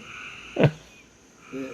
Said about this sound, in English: So you done got our frogs a singing.